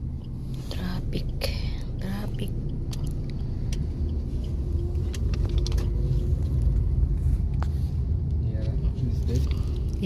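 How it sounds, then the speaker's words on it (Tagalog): Steady road traffic rumble in Doha, Qatar, a dense low engine drone with scattered clicks and knocks, heard from close by inside or beside a vehicle for the whole stretch, with soft talk mixed in. "Traffic."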